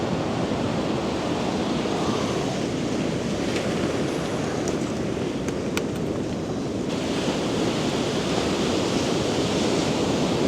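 Sea waves wash in over coastal rocks in a continuous, loud roar of surf and spray with some wind buffeting, close and steady without pauses.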